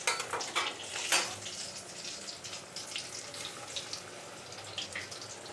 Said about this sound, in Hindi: इसी तरह हम सभी को फ्राई कर लेंगे